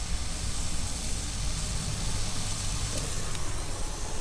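Onions fry in a pan on a small campervan stove, giving off a steady, dense sizzling hiss that stays even throughout without pauses or talk.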